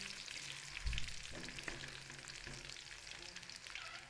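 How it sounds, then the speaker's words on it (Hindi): Soft, steady sizzling of garlic frying in oil, with occasional stirring clinks and scrapes in the pan; no talking. "लहसुन हमारा यहाँ पर ब्राउन होना शुरू हो गया है"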